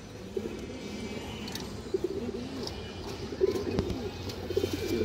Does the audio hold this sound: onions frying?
no